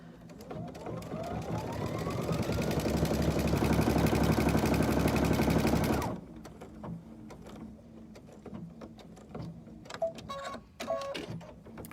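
A sewing machine stitching parallel rows for chenille runs in a fast even whirring rattle for about six seconds, then stops, leaving quiet handling clicks and rustles.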